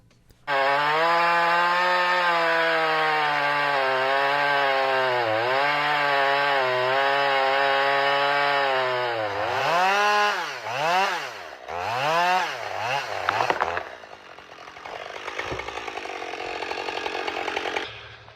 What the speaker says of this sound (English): Loggers had to use manual chainsaws to cut down trees